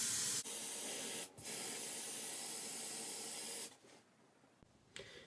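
Aerosol can of pink hair color spray hissing in a long continuous burst with a brief pause, then a shorter spurt before falling quiet, close and loud.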